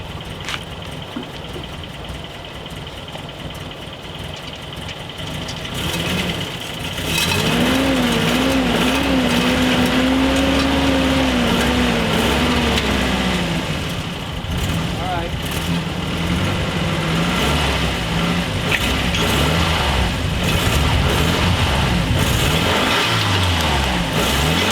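Nissan 720 ST Datsun pickup truck engine, started after years sitting, idling close by then revving in rising and falling sweeps before settling back, with people talking over it.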